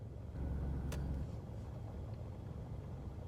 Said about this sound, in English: if you hear like wind, that's the air from my car, because it's hot as hell outside